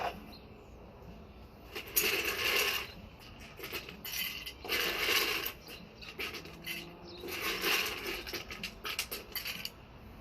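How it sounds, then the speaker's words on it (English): Ice cubes clatter into a cocktail glass at a bar, with bright glassy clinks and rattles arriving in several separate bursts close by and no talking. "For starters, to make this drink, you want to ice your glass."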